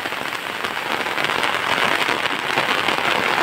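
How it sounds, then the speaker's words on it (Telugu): Heavy rain pours over a cotton field during a thunderstorm, a loud dense unbroken hiss of drops that swells slightly toward the end. "మీరైతే గమనించినట్లయితే వర్షం బాగా పడుతుంది"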